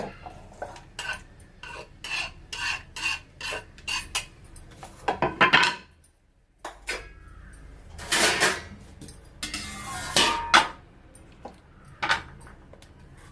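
A knife chops a cucumber into thick pieces for a Mangalore-style huli, giving irregular bursts of sharp cutting taps and kitchen clatter, with a brief pause midway before the chopping resumes.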